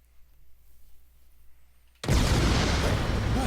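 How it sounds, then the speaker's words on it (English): A sudden loud explosion bursts in the video game Call of Cthulhu, a broad roaring blast that cuts in abruptly after a quiet, low rumbling lead-in and keeps roaring until the end. "Alright, explosion."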